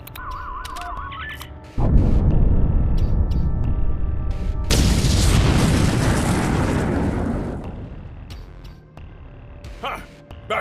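An explosion in the Star Trek Online video game, a loud sudden boom that swells into a long roaring rumble and debris crackle for several seconds before dying away, with electronic game sounds before and after.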